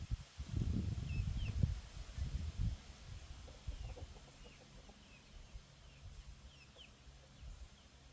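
Hens cluck and murmur in a backyard flock among rustling and scratching in the grass, soft and fairly distant, with a few louder thumps near the start and occasional sharper calls.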